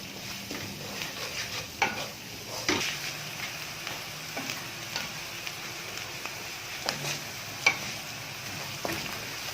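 Spices for mutton keema stirred in a hot pan, with light frying crackle and repeated scraping strokes of a spoon against the pan, fairly quiet and close, with no talking.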